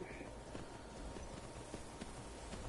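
Horse hooves clip-clopping steadily while riding in the video game Skyrim, a continuous run of quick, moderately loud hoofbeats over a low rumble, with no talking.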